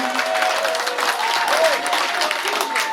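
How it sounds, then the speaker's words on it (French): Loud, sustained applause fills an enthronement ceremony, a dense wash of clapping from a large crowd, with faint voices underneath. "On applaudit très fort le nouveau fils Bamendjou."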